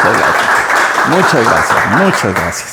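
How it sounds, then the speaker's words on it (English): Audience applause at a talk on Ernest Hemingway, a steady broadband clapping wash filling the clip while someone speaks over it with clear voiced phrases. "So let's welcome Jack with a round of applause, as we like to do, so that he's inspired."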